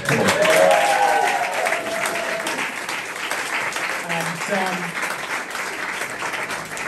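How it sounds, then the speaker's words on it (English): An audience at a comedy show applauds the comedians, a steady wash of clapping throughout while the host keeps talking over it. "round, massive round of applause for the two Tonys"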